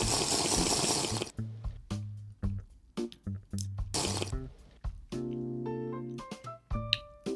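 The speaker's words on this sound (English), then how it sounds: "And we go in for a sip of the water." Close, quiet slurping and sipping of hot dog water, with short wet bursts separated by pauses and small clinks and liquid movements.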